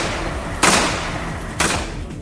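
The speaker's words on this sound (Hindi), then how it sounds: "उनमें अफगानी सैनिक तालिबान के लड़ाकों पर गोलियां बरसाते दिखाई दिए" Afghan soldiers fire on Taliban fighters in the Laghman area, producing two loud, sharp gunshots about a second apart, each ringing out briefly.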